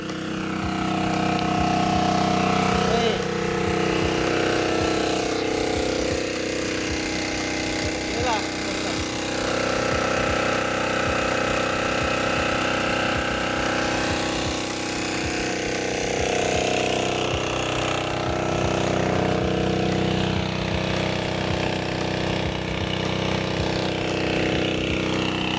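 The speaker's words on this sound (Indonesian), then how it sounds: "kita lihat dulu mesinnya di bawah karena berisik" Engine-driven water pump used for watering shallot fields: a loud, continuous mechanical drone and clatter close by, steady throughout, with voices partly masked underneath.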